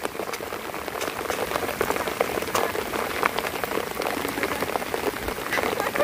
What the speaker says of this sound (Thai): ตอนนี้ฝนก็ตก